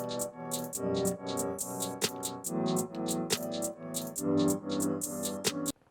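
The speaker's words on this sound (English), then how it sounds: "And then I've put in an open hat." A drill-style beat with rapid hi-hats, quick rolls and bright open hi-hat hits sitting over sustained tones, looping steadily and stopping abruptly near the end.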